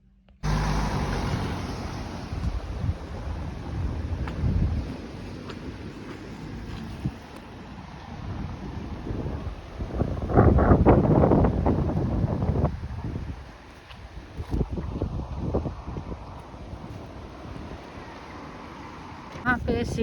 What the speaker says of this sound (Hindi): हवा भी काफ़ी तेज़ है